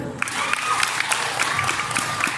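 A Miss Gay Communal pageant crowd in Cabanatuan City claps loudly, with scattered cheers and whistles over the dense applause and a faint voice mixed in.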